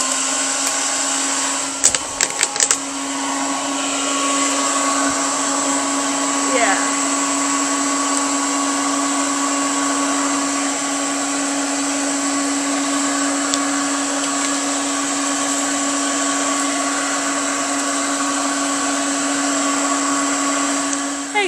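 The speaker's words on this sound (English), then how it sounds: "we're gonna use the hairdryer. So like I said, we're gonna review the bad boy. So I'm gonna put it on the high setting" Kiss 1875 salon bonnet hair dryer running on its high setting, a steady loud whirring drone with a constant hum that holds unbroken for the whole stretch, after a few brief clicks near the start and one quick word spoken early.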